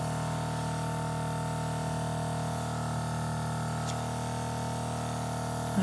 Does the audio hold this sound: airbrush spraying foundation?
yes